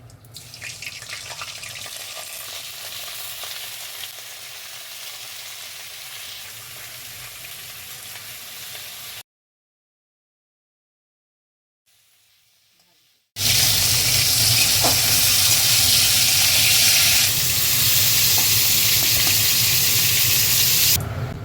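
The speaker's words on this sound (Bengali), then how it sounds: "ফুলকপিগুলো আমার ভাজা হয়ে গেছে" Homegrown cauliflower fries in oil, giving a steady close sizzle that cuts out to near silence for a few seconds, then returns louder and harsher, a hissing, spraying roar with no talking.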